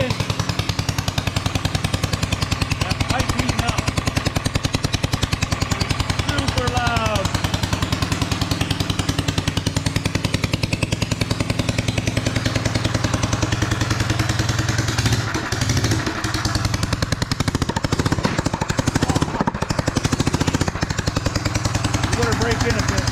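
A Lil Fatty mini bike with a BT200X engine and a freshly tuned carb idles and revs steadily throughout, a continuous buzzing drone with some clattery mechanical noise, while people talk over it at times.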